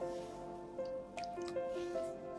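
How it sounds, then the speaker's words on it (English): Water poured from a measuring tumbler into an empty container resting on a digital balance in a quality lab, heard as soft dripping and trickling with short tonal plinks, close and quiet, with no talking. "Now pour 100 ml of water that measure by a tumbler."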